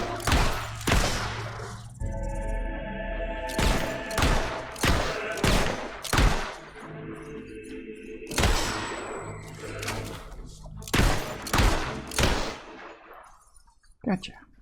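Repeated gunshot bursts from the video game Fable 3, loud and close, coming in sharp volleys with short pauses between them and a brief crack near the end.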